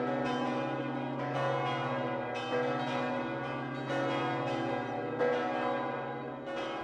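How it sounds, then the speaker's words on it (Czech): Church bells ring out in celebration of peace, several overlapping tolls sounding in a steady, resonant rhythm with long ringing decays, loud and continuous with no voices. "Zvony se rozezněly na oslavu míru."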